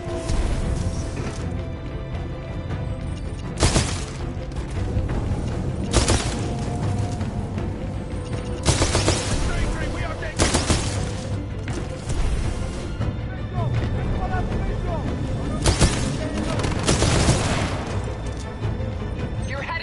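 Gunfire and explosive impacts from the video game Titanfall 2 burst out in sharp, loud bangs every couple of seconds over a rumbling battle background, with voices talking throughout.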